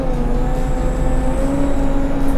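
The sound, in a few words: off-road vehicle turbo and induction noise accelerating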